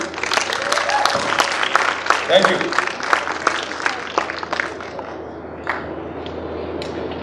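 Audience applause at a design forum, a sustained wash of many hands clapping for a speaker, tapering slightly near the end, with a brief spoken thanks heard over it.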